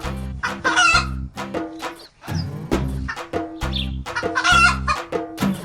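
Native chickens cluck and squawk in bursts from under a woven basket, near and fairly loud, with a brief pause partway through.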